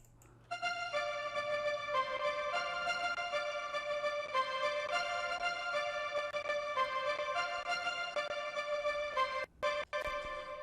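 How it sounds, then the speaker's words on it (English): Brass Staccato 1 synth preset from the Nexus XP Dance Orchestra category, used in a gospel beat remake, plays steady short stabbed brass chords in a repeating rhythmic pattern, loud and alone, with a couple of brief dropouts near the end. "the preset is called Brass Staccato 1"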